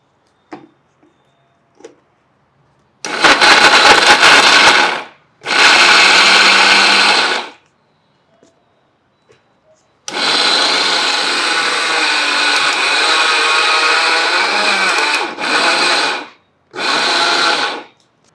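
A kitchen mixer grinder blends seedless dates for a knee-pain remedy laddu, running in five loud, steady whirring bursts of a few seconds each with short pauses between them and no talking.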